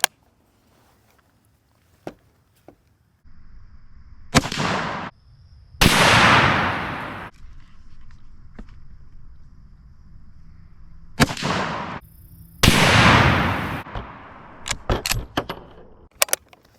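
A 1942 Australian Lithgow No. 3 rifle fired at a pumpkin outdoors, two loud cracks each followed by a long booming echo, plus a few scattered clicks and rustles of handling in between.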